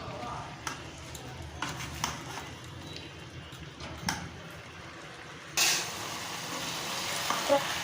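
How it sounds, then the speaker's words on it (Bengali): Chicken with banana flower being stirred and sautéed in a pan makes soft frying noise with occasional scrapes and knocks, then a louder sizzle near the end. "ক্রমাগত ঘন ঘন নেড়ে ভালো করে সব একসাথে কষতে হবে"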